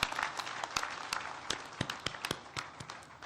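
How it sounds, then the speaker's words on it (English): An audience claps at a university graduation ceremony, a scattered, fairly faint patter of separate hand claps over a few seconds. "Can we appreciate them with a hearty clap again?"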